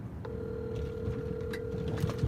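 Telephone ringing before a call is answered, a single sustained electronic tone with faint overtones heard over low background rumble and noise.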